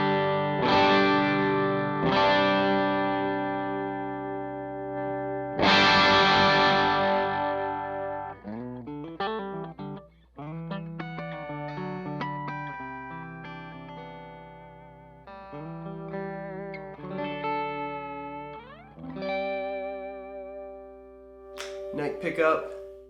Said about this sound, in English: So it's going to sound like this, starting on the bridge humbucker.